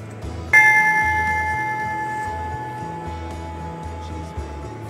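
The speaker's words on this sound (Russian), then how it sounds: "Вот нам бы такой колокольчик" A small hand bell struck once, a bright sharp ring that rises suddenly and then decays slowly over several seconds, heard close over a low rhythmic background of faint music or hum.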